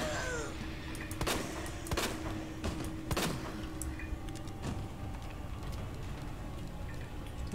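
Several sharp gunshots in a Resident Evil zombie video game crack at irregular intervals over a steady, noisy background, with a few quieter pops scattered between them.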